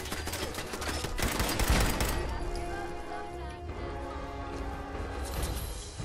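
An automated turret in Fallout 4 fires rapid bursts at the Corvega Assembly Plant, crackling gunfire that peaks early then gives way to a ringing mechanical tail, with someone talking over it.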